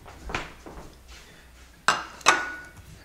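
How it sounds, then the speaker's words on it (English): A kitchen knife is sharpened while preparing acorn squash: two sharp, ringing metallic strokes close together near the end, after a few softer scrapes and knocks. "then you sharpen your knife."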